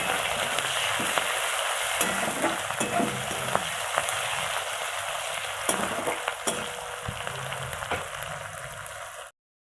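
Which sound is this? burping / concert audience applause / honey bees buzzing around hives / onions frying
onions frying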